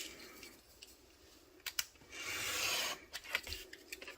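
Paper for a junk journal folder insert is trimmed, close-up, with a few short scissor snips and rasping cuts followed by a longer rubbing swipe, quiet and without talk.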